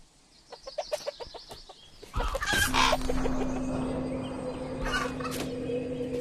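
Chicken clucking and squawking in the VR game A Township Tale, a run of short close clucks followed by a louder burst of flapping, squawks and jumbled noise over a steady hum.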